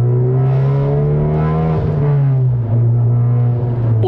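Honda Civic Type R FK8 exhaust during a downshift, a loud, close, deep droning burble with a steady low note that dips and wavers briefly before settling back, with no voices.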